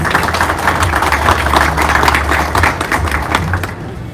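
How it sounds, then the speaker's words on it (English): Sustained applause from an audience honoring business leaders at a regional casino pitch contest and awards event in Bristol, Southwest Virginia, a dense, steady wash of many hands clapping with a low hum underneath, tapering slightly at the end. "Can we have a round of applause for these business leaders?"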